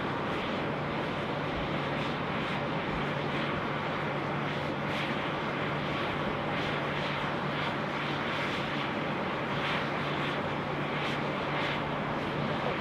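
A Qantas airliner lands at Sydney Airport on runway 34 left, a continuous broad jet roar holding steady throughout at moderate distance, with no voices.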